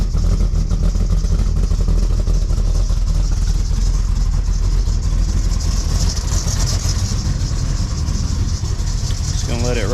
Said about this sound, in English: Still can't believe how much quieter those mufflers are.